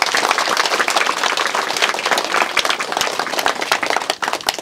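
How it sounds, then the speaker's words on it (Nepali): A crowd at a public gathering applauds in a loud, sustained wave of clapping, many hands close and dense for several seconds before thinning slightly near the end. "कृपया ताली मारिदिनु होला।"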